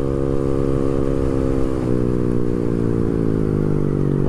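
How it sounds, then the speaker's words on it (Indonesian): A Honda Beat 115 cc motorcycle with a racing exhaust runs close by, its buzzing engine note dipping briefly and then climbing steadily as it revs, loud and unbroken with no talk. "Kurang kenceng ini motor."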